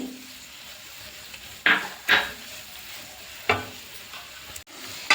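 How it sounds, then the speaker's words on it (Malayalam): Green chillies and spices sauté in a pan, with a soft background sizzle broken by a few sharp scraping spoon strokes against the pan. The sound is close. "ഇതെല്ലാം കൂടി നമുക്ക് നന്നായിട്ടൊന്ന് വഴറ്റിയെടുക്കാം"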